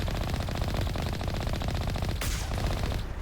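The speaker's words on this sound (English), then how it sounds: "I can just pick them off with the minigun" Minigun fire in the sci-fi shooter Mass Effect Legendary Edition, a sustained rapid stream of shots, loud and close, that cuts off sharply near the end.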